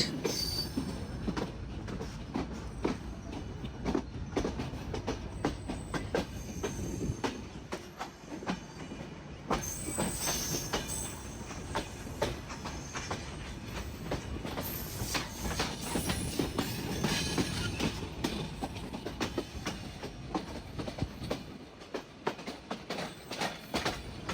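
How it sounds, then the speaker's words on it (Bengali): The Padma Express pulls away from the station and runs on, a steady rumble of wheels on rails with squealing metal and faint clickety-clack, continuous and close, heard from aboard the train. "মাত্র ট্রেনটা ছেড়ে দিল"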